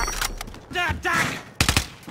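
Rapid bursts of SMG gunfire in Call of Duty Warzone, three close automatic volleys separated by short gaps, with a voice briefly audible.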